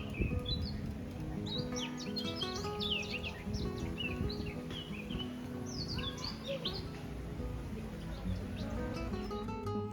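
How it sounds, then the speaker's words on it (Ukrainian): Many birds chirp and sing at once in a steady outdoor chorus, bright trills over a constant low background rumble. "Тільки послухайте на ці пташині співи."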